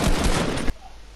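A short burst of rapid automatic gunfire in Fortnite, loud and dense for well under a second before cutting off abruptly into quiet.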